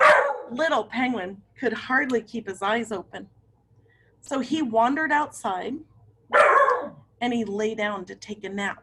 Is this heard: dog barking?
yes